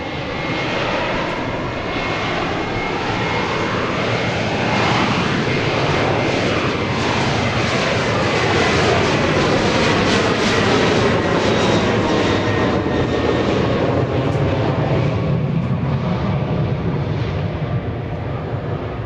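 A Southwest Boeing 737-800 jet roars through its takeoff at Dallas Love Field at night, a loud continuous engine rumble with a sweeping, shifting whine as the aircraft passes, steady for nearly twenty seconds.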